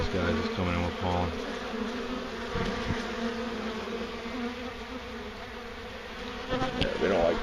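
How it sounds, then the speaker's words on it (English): Honey bees buzz thickly at a hive during a removal in Wellington, Florida, many returning with pollen; a dense, close drone with individual bees zipping past in louder swells. "There's an extra lot of bees coming in here right now with pollen on them."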